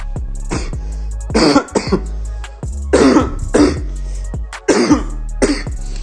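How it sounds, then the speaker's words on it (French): Several loud coughs in quick succession, close to the listener, with short pauses between bursts and no talking. "je tousse un petit peu pour faire le jingle"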